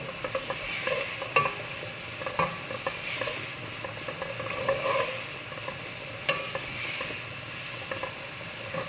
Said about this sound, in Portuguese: Vamos refogar aqui. Aqui só tem cebola, não tem o alho.